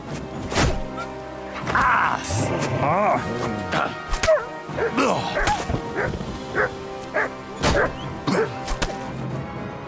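Mutt, the player's dog in Kingdom Come: Deliverance II, barking in a few sharp close woofs spaced across the scene, mixed with thumps and someone talking in between.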